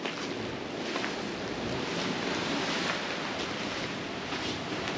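Atlantic Ocean surf at the rugged north point of Barbados, a steady roar of breaking waves with wind buffeting the microphone, continuous and fairly loud with no voices.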